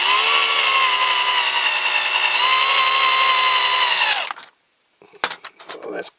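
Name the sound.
power drill drilling into toy crane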